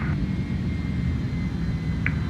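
A simulated Airbus A310 in Microsoft Flight Simulator 2020 gives a constant low jet-engine drone at thrust, steady and unbroken, with a faint higher whine and a brief click near the end.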